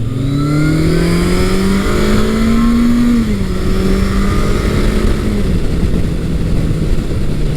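A vintage motorcycle, either a Kawasaki KZ1000 or a Honda CB750, accelerates through two gears, its engine note climbing loudly and close, dropping at the shift and then climbing again.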